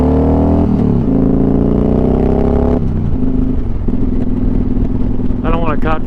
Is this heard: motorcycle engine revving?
yes